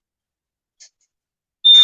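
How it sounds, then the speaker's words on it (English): A single faint high-pitched chirp, then a louder sustained electronic beep starting near the end, like a smoke alarm going off nearby. "That's not my smoke alarm."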